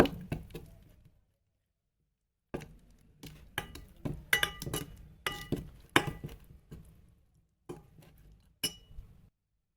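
Whisker or spoon stirring thick rosemary henna paste in a glass bowl, giving bursts of close clinks and scraping taps separated by short pauses.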